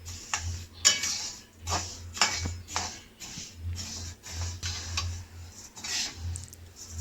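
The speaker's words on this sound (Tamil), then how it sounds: "நல்லா வதக்கி விட்டுக்கிட்டே இருக்கணும்" Kavuni rice is stirred and dry-roasted in a pan, giving repeated clicking scrapes of a spoon against the metal in a steady rhythm over a low hum.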